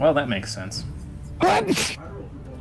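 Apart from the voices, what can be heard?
sneeze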